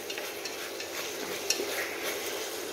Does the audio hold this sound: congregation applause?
no